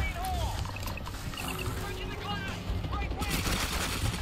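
Assault carbine gunfire in World War Z, a dense, continuous rattle of automatic shots mixed with other game noise, loud and sustained throughout, with a voice talking over it.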